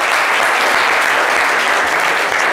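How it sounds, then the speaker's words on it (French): A studio audience gives loud, dense applause for a young guest on a French comedy show, a thick unbroken wall of clapping that stays even and close for its whole length. "On peut l'applaudir très très fort."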